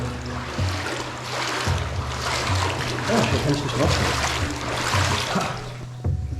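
Water sloshing and splashing around someone wading through a flooded old bunker firing range, the sloshes coming in uneven surges with a low hum underneath, while someone speaks over it.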